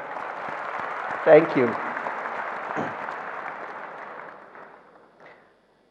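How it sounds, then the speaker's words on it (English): Audience at a Xiaomi MIUI 11 launch event applauds steadily for several seconds, a broad wash of clapping that fades out, with a brief voice heard over it. "I think that deserves a bigger clap"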